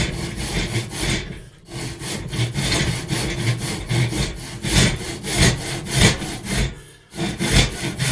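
A hand saw cuts a piece of wood square, producing steady rhythmic rasping strokes back and forth, close and clear, with two brief pauses between strokes over about eight seconds.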